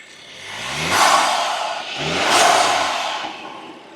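A 2025 Skoda Kodiaq petrol engine, revved lightly twice while parked. Each rev swells and fades smoothly, the two roughly a second and a half apart, close by and with no talk over them.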